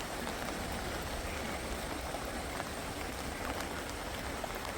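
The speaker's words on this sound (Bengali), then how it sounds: "বৃষ্টি এখনও পড়ে যাচ্ছে সমানে, এখন আস্তে আস্তে পড়ছে" Light, steady rain falls outdoors on a morning in the Meghalaya hills. Soft, even patter continues at low volume for the whole stretch, with no voices.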